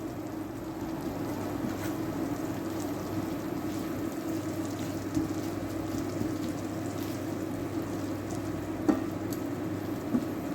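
Sausage frying in a pan for biscuits and sausage gravy, a steady low sizzle and crackle running continuously with occasional small pops, no talking.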